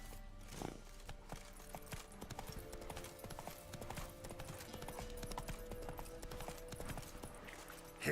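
Horse hooves clip-clop steadily in The Witcher 3, a regular trotting rhythm of hoof strikes running the whole time under layered game ambience and music, with a short whinny-like burst near the start.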